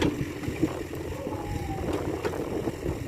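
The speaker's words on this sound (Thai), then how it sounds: "เนื่องจากมีเสียงเครื่องยนต์แทรกเข้ามา" A small excavator's engine drones steadily at close range, a low rumbling hum with a few faint knocks and no speech.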